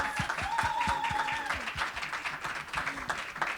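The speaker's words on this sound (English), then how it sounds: "Can we all clap for them?" Moderate applause for a panel at an academic event, a crowd clapping steadily at middle distance with a few sharper individual claps near the front, no talk over it.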